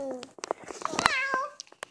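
A young child imitates a cat, giving a few rising and falling meows close by, mixed with brief babble and small noises.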